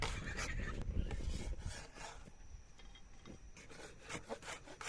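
A knife slices through a red onion on a cutting board. Rapid crisp crunching cuts and soft thuds sound close, dense at first, then thinning into scattered taps.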